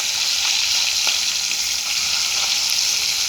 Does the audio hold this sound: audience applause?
no